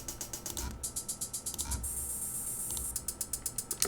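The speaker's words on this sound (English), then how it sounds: "4 different hi-hat samples combined to create one noisy chaos" Four hi-hat samples from a sampler play at the same time, producing quick, crisp metallic ticks in a fast repeating pattern with a sustained hiss, fairly faint, with a short break partway through.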